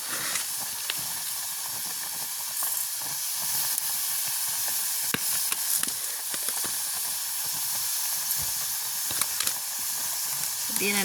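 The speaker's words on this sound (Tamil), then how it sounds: "அப்படியே கிண்டு கொண்டே இருப்பேன் இப்படியே நல்லா இறுகும் வரைக்கும் காய்ச்சிக்கொண்டே இருப்பேன்" Cherry jam made from half a kilo of fruit and a quarter kilo of sugar simmers in a pot over village cooking heat, a steady steamy hiss and bubbling broken by scattered light stirring knocks.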